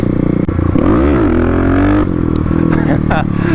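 Kawasaki KLX351 dirt bike engine revving hard for a clutch-up wheelie, a loud close rising whine that swoops up, holds and then drops, with a voice briefly over it.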